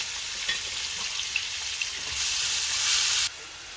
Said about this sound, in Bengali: খেরেলা ভাজি পয়লা পেঁয়াজ রসুন কুচি করা তেজপাতা লবণ দিল